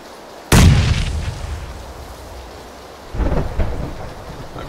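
Frag grenade blasts and gunfire in the PLAYERUNKNOWN'S BATTLEGROUNDS video game: a sudden loud boom that rolls off into rumble, then a second burst of explosive cracks a few seconds later, with no talking.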